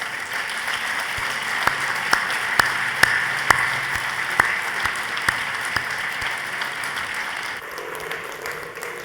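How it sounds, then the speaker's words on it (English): An audience at an awards ceremony in a London hotel applauds a finalist, sustained dense clapping from a large room with a few sharp, louder claps standing out near the front, fading slightly toward the end. "a huge round of applause, please, for Lisa Baker"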